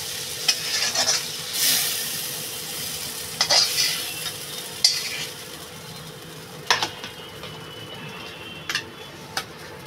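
Onions and mango frying in a pan, a steady hiss of sizzling oil punctuated by irregular sharp scrapes and clicks of a spatula stirring, close and moderately loud with no talk.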